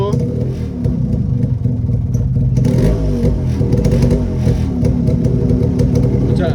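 A Yamaha RX100 two-stroke motorcycle runs loud and close through its silencer, a steady rough drone that swells briefly partway through, with people talking faintly underneath.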